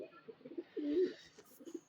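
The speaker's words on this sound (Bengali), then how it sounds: "কিউট কিউট কবুতর" An Australian dove cooing softly at close range, a brief low throaty coo amid quiet murmuring bird sounds.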